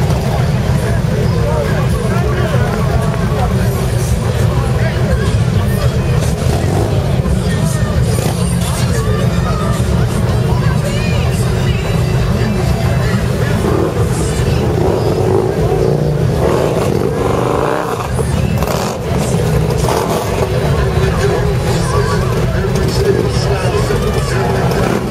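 A hoodless race car engine rumbles and revs loudly and continuously amid a crowd at a New Year's event in Santa Fe, with people talking close by throughout.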